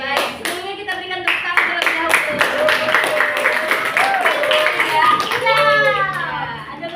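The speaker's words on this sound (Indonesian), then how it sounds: "Sebelumnya kita berikan tepuk tangan terlebih dahulu." Clapping from a student audience after a classroom presentation on gourami fish farming, sharp individual claps ringing out, with children's voices and chatter carrying over and through them.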